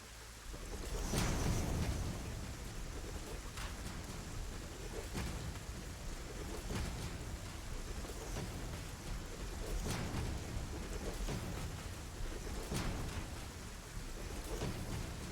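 Steady rain pours and thunder rolls in a storm within the factory-building video game Satisfactory, with low rumbles swelling and fading over the constant hiss of rainfall, and no voices.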